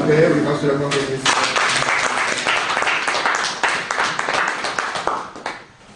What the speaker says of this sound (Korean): 존귀한 이름 앞에 우리 박수 영광 드리겠습니다.